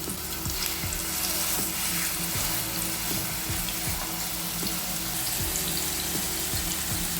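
Prawn ada cooking in a pan over a low flame, with a steady hiss of oil and occasional utensil clicks and scrapes, close and continuous without talk.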